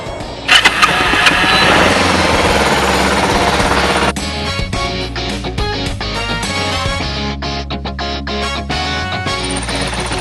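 A motorcycle engine fires up with a loud burst of revs, then drops into a close, steady idle with a rapid, uneven chugging.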